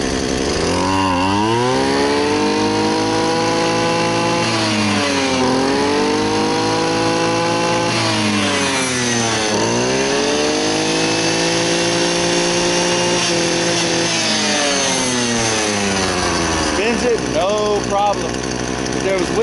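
A Maruyama ProScape BT23L two-stroke bushcutter engine running loud and close, rising and falling in repeated revving sweeps over a continuous buzzing drone.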